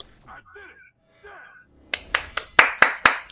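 Hands clapping during a Far Cry Blood Dragon game session, about six sharp, loud claps in a slow, even rhythm, following some faint game sounds and electronic chirps.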